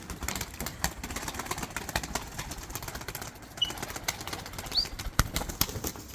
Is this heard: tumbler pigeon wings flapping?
yes